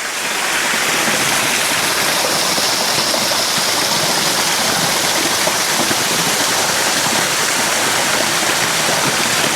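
A stream of water at Silver Sands Beach in Aberdour, Scotland, rushes down toward the sea in a loud, continuous broadband roar with no pauses and no voices.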